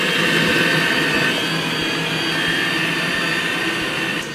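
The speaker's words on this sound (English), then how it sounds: "This is Swiper, the vacuum." A robot vacuum cleaner running indoors, a loud, steady whirring motor drone that holds constant throughout and ends in a brief bump.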